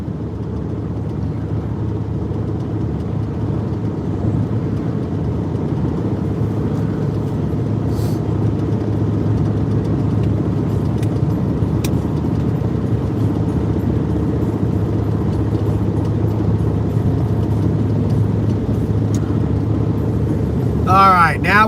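A car drives along a highway while passing a truck, heard as a steady low engine and road drone from inside the cabin that holds at an even level throughout.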